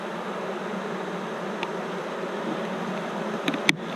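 Honey bees buzz steadily around a hive in extreme heat, a dense, continuous drone close by, with a couple of faint clicks near the end and no talk.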